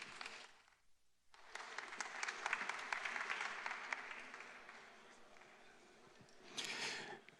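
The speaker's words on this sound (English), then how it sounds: "Let's have a round of applause for Ziv." Audience at a live keynote applauding a speaker, a short pause and then a swelling, steady round of clapping that fades, with a brief louder burst near the end.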